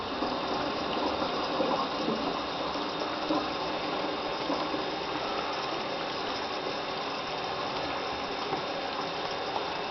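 Water flows steadily into a toilet unblocker system after its valve is opened, a constant rushing fill that stays even and unbroken.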